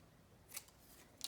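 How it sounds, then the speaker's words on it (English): Scissors snipping white bits off paper for Christmas tag collage, two crisp, close snips about half a second apart in an otherwise quiet room. "I'll just snip off these white bits"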